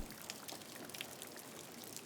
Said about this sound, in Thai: ฝนตกแล้วว่ะ เราจะต้องเปียกฝนกลับบ้านกันนะวันนี้